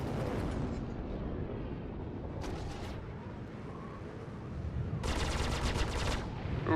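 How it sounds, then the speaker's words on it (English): Missile launch from a Sabre fighter in Star Citizen, heard as a loud rushing roar and blast bursts over constant ship noise, with two sharp crackling flares and talk-like sounds in the mix. "Lock missile. Locking missile. Fire missile."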